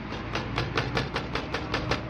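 A car with a worn brake caliper scrapes metal on metal while driving over rough asphalt, a rhythmic grinding pulse repeating about five times a second over a low road rumble, loud and close.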